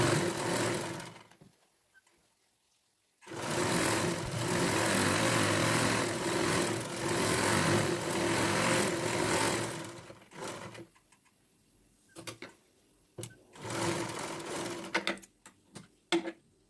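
A sewing machine stitching a pillow cover runs in long steady whirring bursts, close and fairly loud, with pauses in between and a few short stop-start runs toward the end.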